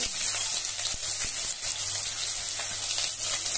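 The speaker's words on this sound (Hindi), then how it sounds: "मैंने थोड़े से कढ़ाई में तेल गरम कर लिया है और अब 1 टीस्पून जीरा, 1 टीस्पून कलौंजी" Cumin and nigella seeds sizzle in hot oil in a kadai, giving a steady, loud, close hiss with faint crackles throughout.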